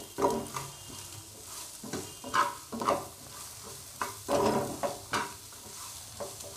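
Cauliflower pieces frying in a pan and being stirred, rustling scrapes and soft clatter in irregular bursts over a light sizzle, close by and without voices.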